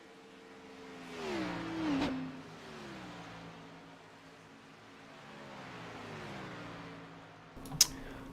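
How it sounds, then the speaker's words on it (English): Race car engines whine past in a sim racing test session for the Champion Spark Plugs 500, one car sweeping by near then fading, another pitched drone passing later, ending with a sharp click. "All these cars are making their final run at it in this test and tune session"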